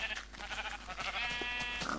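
A sheep in the Minecraft video game bleats, a quavering, nasal cry that repeats in short bursts, quiet and clear, with no talking.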